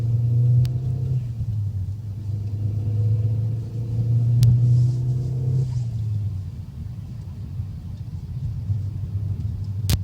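A 1.8T car fitted with a close-ratio 6-speed gearbox, heard from inside as a low droning engine rumble that swells and eases with the throttle, steady and close, with no talking over it.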